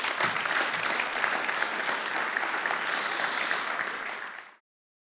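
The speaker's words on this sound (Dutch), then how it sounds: "hartelijk applaus voor Brenno de Winter" A late-night tech talk show audience applauds a guest with loud, dense, sustained clapping that holds steady and then cuts off abruptly near the end.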